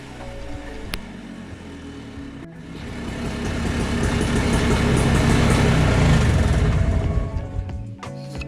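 A rebuilt Polaris 250 two-stroke utility quad engine runs during break-in, its buzzing revs rising to a loud sustained roar and then easing off, heard close up.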